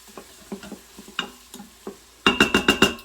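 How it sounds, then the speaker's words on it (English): A spoon stirring a teaspoon of turmeric into chicken tikka masala curry in an Instant Pot, a run of soft scraping clicks followed by five louder, close knocks against the pot. "Give that another stir."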